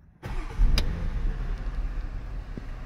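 A Porsche Cayenne engine cranks and catches after its dead lithium battery was recharged and repaired, then settles into a steady, fairly loud idle with a brief rev near the start.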